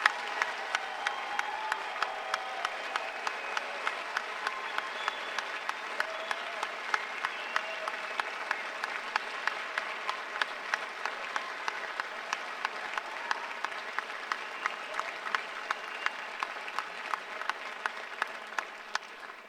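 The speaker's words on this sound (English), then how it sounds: "how about a nice round of applause?" Sustained audience applause at a medical school white coat ceremony for new student doctors, a steady dense clapping from a large crowd that runs evenly throughout with no talk over it.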